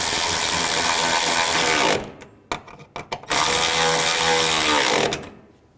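A ratchet or power driver buzzes loudly and continuously while tightening bolts during a radiator installation on a 2011–2014 Chrysler 200, stopping briefly for a few short clicks before running again in a second long burst.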